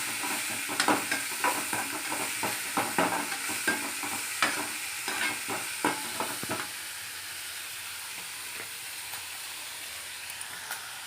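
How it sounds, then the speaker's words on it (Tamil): Curry leaves, coriander and mint leaves sautéing in a pan for a Chennai-style dish: a steady close sizzle with repeated scraping stirs early on, then a quieter continuous frying hiss, no talk. "கருவேப்பிலை, கொஞ்சம் கொத்தமல்லி தழை, புதினா தழை போட்டு நல்லா வதக்கலாம்."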